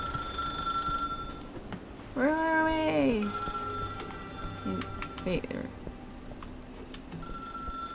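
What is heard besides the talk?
telephone ringing in the video game Dimhaven Enigmas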